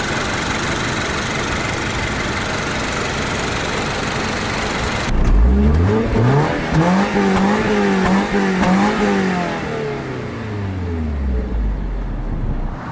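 After a steady idle, a 2023 Subaru BRZ's naturally aspirated 2.4-litre flat-four engine revs up sharply several times, rising and falling in pitch, close and loud, then settles back to idling.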